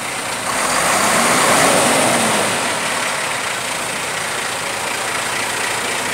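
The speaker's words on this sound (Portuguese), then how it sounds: "Ouça só o barulho do motor desse caminhão." A Spanish tandem-axle truck sits idling close by, its diesel engine giving a low, continuous rumble that swells briefly near the start and then holds steady.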